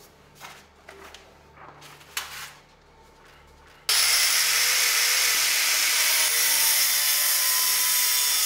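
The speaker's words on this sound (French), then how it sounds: "je vais me servir du chablon pour percer" A power drill with a taped bit bores through a template into the workpiece, starting abruptly after a few quiet handling noises and then holding a loud, steady high whine to the end.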